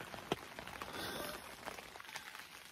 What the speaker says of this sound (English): the longer I sit here waiting for this rain to slow up